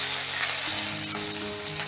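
Grated ginger is stirred into hot mustard oil with a five-spice tempering over low heat, giving a close, continuous sizzle with soft stirring.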